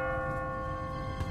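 A single church bell tone rings and sustains in The Walking Dead video game, its resonant hum lingering at moderate volume.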